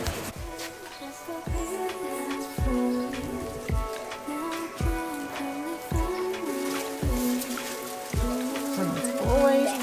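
Rain falling steadily outdoors at Chester Zoo, a dense close patter on surfaces with heavier drips and splashes spread through it, moderately loud, with a faint murmur of people in the background.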